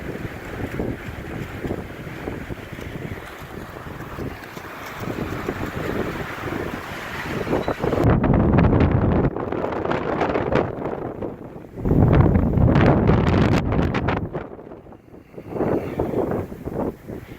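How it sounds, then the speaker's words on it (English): Strong winter wind at Garden of the Gods, Colorado, roars and buffets the microphone in heavy gusts, with a deep rumbling blast that surges and eases several times. "we're back in the super windy section of the park"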